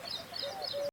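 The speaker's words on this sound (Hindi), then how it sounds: "बैकग्राउंड में मेरी पसंदीदा गाने वाली पक्षी यूरेशियन कॉलर डव की आवाज आ रही है।" Eurasian collared dove calls in the background outdoors after light rain, with crows and mynas nearby; brief repeated high bird notes sound faint and somewhat distant against a steady ambient hush.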